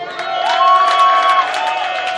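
A festival crowd cheers and applauds at a live stage show, a steady roar of many voices that holds loud throughout.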